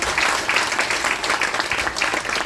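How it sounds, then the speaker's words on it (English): Warm applause from a graduation audience honoring student representatives, a thick, sustained roar of many hands clapping, steady and fairly loud throughout. "let us give our student representatives a warm round of applause"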